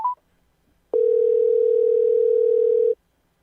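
A telephone dial tone after a dropped call: a short beep, then a loud, steady single tone holding for about two seconds before cutting off, with nothing else heard.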